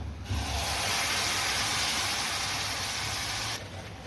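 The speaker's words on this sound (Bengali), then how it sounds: "কড়াইটা গরম হয়ে গেছে, এবার আমি খেজুরের ঝোলা গুড়টা আমি দিয়ে দিব।" Liquid date palm jaggery hits a hot wok with a sudden loud hiss that holds steady for about three seconds, then drops away abruptly.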